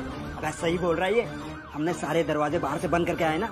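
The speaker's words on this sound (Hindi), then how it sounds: "अरे ये पुलिस का सायरन था भी पर पुलिस नहीं भी थी।" A police siren wails in rising and falling sweeps, fairly close and loud, while someone talks over it.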